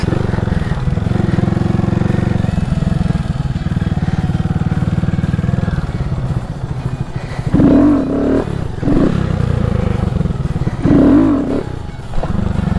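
A Honda Grom motorcycle's single-cylinder engine drones loudly and steadily, with throttle blips and revs rising and falling as the rider practices wheelie loops, close to the microphone throughout.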